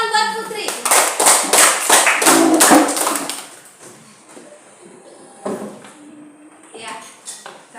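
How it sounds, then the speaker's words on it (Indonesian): Classroom applause for a student: a burst of many hands clapping fills the first few seconds, then fades as voices take over and talk continues. "Ayo, coba tepuk tangan buat Putri."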